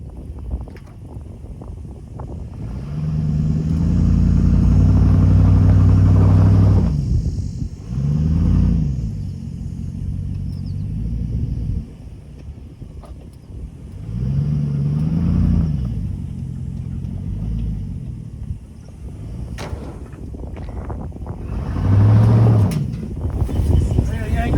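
A 1969 Chevrolet C30 truck engine labors in surges as the truck tries to climb out of a hole in an oil field, with heavy low rumbling swells and lulls over roughly twenty seconds under wind noise, and a voice speaks briefly.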